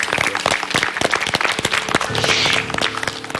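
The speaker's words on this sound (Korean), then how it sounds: "저 두 분 행복하라고 큰 박수 한번 보내주세요" A television studio audience at a Korean talk show claps in a loud, dense, sustained burst of applause that holds steady for the whole stretch.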